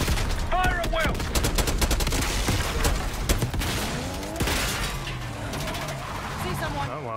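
Dense volleys of gunfire crackle through a Call of Duty: Black Ops 6 assault on a dictator's palace, with rapid overlapping shots and bursts, while voices shout over the battle.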